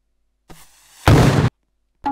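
A grenade launcher round bursts in the Roblox game Dark Life as one short, loud blast with a quieter rumble just before it and a brief sound cut off at the end.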